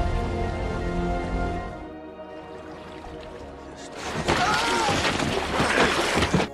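Steady rain hisses throughout beneath a low tonal drone, swelling into a heavier, louder downpour in the second half.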